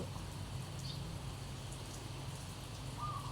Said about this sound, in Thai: ขณะนี้ ฝนกำลังตกไปเนาะ